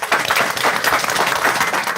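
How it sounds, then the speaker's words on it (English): An audience at a school board meeting applauds, dense, steady clapping filling the room for the whole moment. "Give them a hand."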